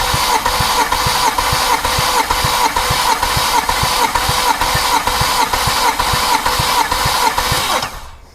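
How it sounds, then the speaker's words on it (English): A BMW 335i with the N54 engine cranks steadily on its starter during a compression test, a loud, rhythmic churning with regular pulses that runs for about eight seconds before cutting off abruptly. "Oh, nice starter."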